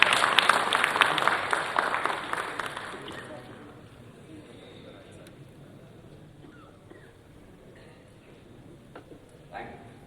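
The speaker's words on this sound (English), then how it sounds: "Please give a big round of applause once again for Professor Burkett." Applause for Professor Burkett at a computing conference, with brisk clapping for about three seconds that quickly thins and fades into a quiet room with faint scattered noises.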